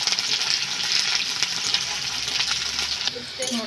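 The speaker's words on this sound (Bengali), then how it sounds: "আমি পেঁয়াজ দিয়ে দেবো একটা কাঁচা লঙ্কা দিয়ে দেবো দিয়ে একটু ভেজে নেবো" Onion and green chili frying in hot oil that already holds spices, making a dense, close sizzle with light crackles and some stirring, holding steady before easing slightly near the end.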